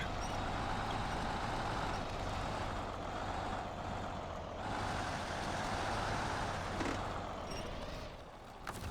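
A heavy truck engine roars continuously in the Snowrunner video game while hauling containers up a snowy trail, a loud steady drone with a brief reversing-style beep near the end.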